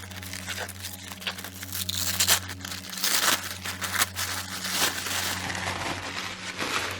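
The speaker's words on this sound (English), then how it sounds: "I guess I'm tearing the tissue paper." Tissue paper is torn and crinkled while unboxing a box of Lavish Earth crystal affirmation cards, a close, continuous rustle with sharper ripping bursts scattered throughout.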